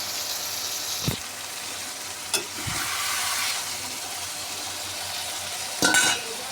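Spice paste frying in oil together with fish, a continuous soft sizzle broken by three or four sharp scrapes of a spoon against the pan, close by and without speech.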